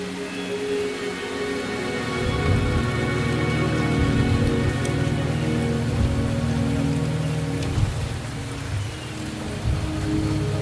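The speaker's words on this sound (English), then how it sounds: "The rain is subsiding, and the sky will soon clear." Steady rain falls in a video game scene, a dense, even hiss of drops on surfaces that holds loud and continuous throughout with no voices.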